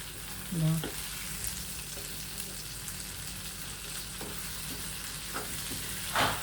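Turkey berries, dal and onion fry in oil in a pan, giving a faint, steady sizzle with a few soft stirring scrapes and clicks.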